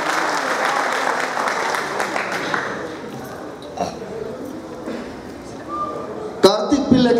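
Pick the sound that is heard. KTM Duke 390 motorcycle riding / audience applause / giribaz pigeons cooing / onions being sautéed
audience applause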